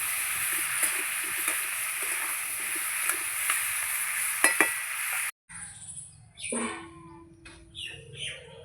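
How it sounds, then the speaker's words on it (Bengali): Vegetables fry with turmeric in a pan, giving a steady hissing sizzle with small pops. After about five seconds the sizzle cuts off, leaving a quieter scene with faint bird chirps. "একটু হলুদ দেবো সবজিগুলোকে আমি খুব লাল লাল করে ভেজে নেব"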